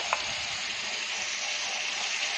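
A spice paste of ground ginger, green chilli and pepper hits a hot pan and sizzles steadily, with a broad continuous frying hiss for a few seconds and no talk.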